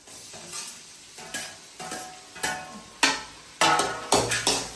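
Tomato going into a hot pan where onion has begun to colour, with steady sizzling and a series of scraping, clattering stirs from a spoon against the pan, roughly one stroke per half second, close up.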